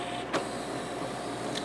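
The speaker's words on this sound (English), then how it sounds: "the test will pass if it doesn't encounter any problem with the scan motor" The scanner head motor of an HP Photosmart all-in-one printer runs during a test, giving a faint, steady mechanical whir with a couple of soft clicks.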